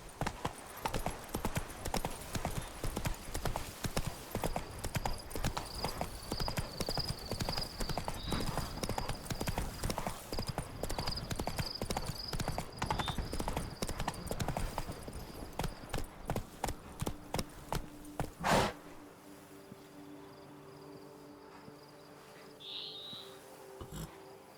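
A horse gallops in The Witcher 3 next-gen on PC with rapid, rhythmic hoofbeats clip-clopping close and loud for about eighteen seconds, then the hooves stop, leaving a quieter ambient wash.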